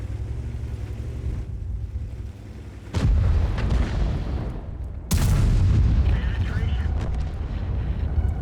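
Two heavy artillery blasts boom in a tank video game, the first at about three seconds and the second a couple of seconds later, each a loud, close crack with a rumbling tail over constant background noise.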